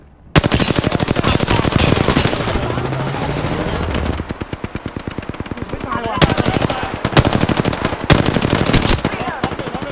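Rapid automatic gunfire in Apex Legends, loud and sustained, with long continuous bursts broken by short pauses, then several more bursts, and faint voices underneath.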